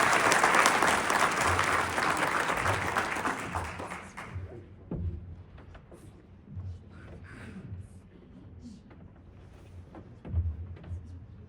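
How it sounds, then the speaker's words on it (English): A crowd at a county teacher of the year awards ceremony applauds loudly for about four seconds, then the clapping fades, leaving scattered thumps, footsteps and faint room noise in a hall. "Let's have a round of applause for the 2025 team."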